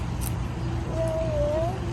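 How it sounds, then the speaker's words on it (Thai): A cat gives a single drawn-out meow over steady background noise and murmur, on a domestic outing in Korat, Thailand. "แมวเหมียวค่ะ พี่แมวค่ะ"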